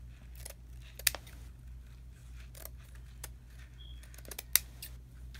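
Scissors snip through pink mesh ribbon for a Valentine heart wreath, a few sharp separate cuts standing out over quiet crafting handling noise.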